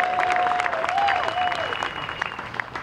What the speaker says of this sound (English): how about a big round of applause for our roadies that have been doing all this work?